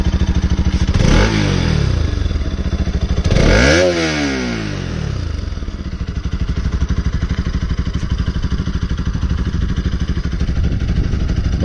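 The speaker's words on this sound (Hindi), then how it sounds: "एक बार एग्जॉस्ट नोट भी आपको सुना ही देते हैं इसका" A modified Bajaj RS 200 motorcycle with its exhaust changed runs close by, loud and continuous, with two sharp throttle blips that rise and fall early on before it settles into a steady, slightly heavy idle.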